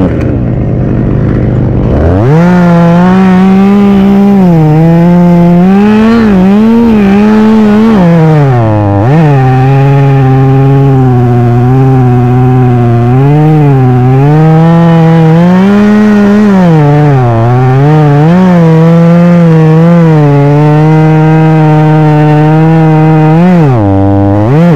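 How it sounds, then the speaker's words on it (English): A small chainsaw cuts through wood, loud and close. The engine drones steadily and its pitch repeatedly sags and recovers under load for about twenty seconds before it revs free at the end. "I'll show you what I mean with a small saw."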